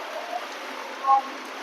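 Rain falls on a village roof as a soft, even hiss that stays steady and moderately faint throughout, with a brief brighter patter near the end.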